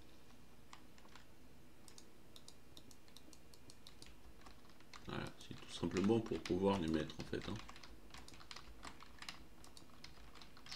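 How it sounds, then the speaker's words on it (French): Soft, rapid computer keyboard clicking runs throughout, nearby and quiet, with a voice talking briefly in French over it midway. "Je suis sûr que vous entendez le clavier"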